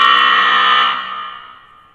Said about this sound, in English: That was the halftime buzzer.